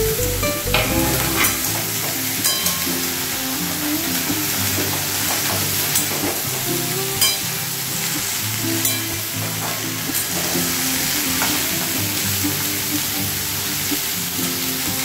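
Vegetables and chillies fry loudly in a pan, giving a dense, continuous sizzle with faint scrapes of stirring throughout.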